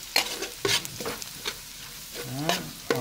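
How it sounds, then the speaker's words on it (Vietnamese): Lemongrass, chili powder and spices are stir-fried with a spatula, giving repeated sharp scraping strokes over a soft sizzle. It is close and uneven in rhythm, with no voices. "xào hết cái gia vị này cho nó thơm nha"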